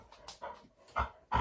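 A dog grumbles and whimpers in short, quiet bursts, a few soft low grunts and whines close by with pauses between them.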